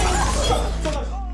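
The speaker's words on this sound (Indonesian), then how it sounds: "tiba-tiba dikagetkan jendela kaca pecah terhantam oleh bekas selang damkar" A glass window shatters as a fire hose strikes it in a zombie drama scene, a brief crash buried in dense, loud background sound with a voice faintly present.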